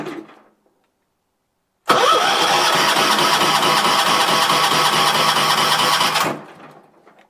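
A John Deere 300 tractor, left sitting untouched for over a year, cranks and its engine catches, running loud and steady at close range for about four seconds before cutting off abruptly; brief quiet passages come before and after.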